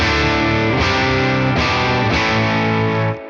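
An electric guitar played through a Tone King Imperial preamp pedal rings out in distorted, sustained chords, with a few strummed changes before the sound cuts off sharply.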